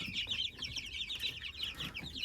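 Dozens of chicks, about 55, crowded in a brooder keep up a continuous, dense chorus of high peeping, steady and close with no pauses.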